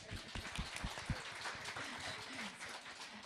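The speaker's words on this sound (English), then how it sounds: "So just put your hand up if you did all three, and the rest of us clap." A small lecture audience claps, faint scattered hand claps with some voices mixed in, quiet and thinning out after the first second.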